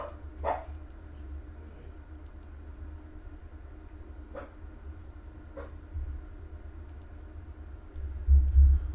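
Dogs bark outdoors in a few scattered, distant bursts over a low steady background hum, with faint clicks nearby and no talking.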